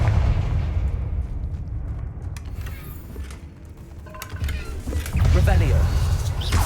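Confringo fire-blast spell in the Hogwarts Legacy video game, heard as booming, rumbling explosions with mechanical clatter over a continuous low roar, swelling louder toward the end.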